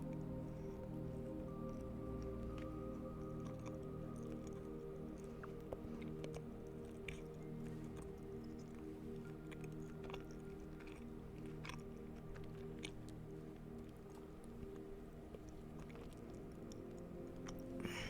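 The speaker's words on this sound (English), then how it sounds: "I'll just break a little nib off. This is the Cadbury Cara Milk." Soft close chewing of Cadbury Caramilk chocolate, with faint moist crunches and clicks over a low steady background hum, quiet throughout.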